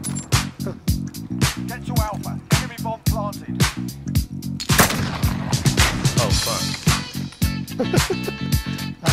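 Sniper rifle gunfire in the video game Modern Warfare, played in a Search and Destroy match on PS5: sharp repeated shots burst out over game music and sound effects, with a voice talking over them.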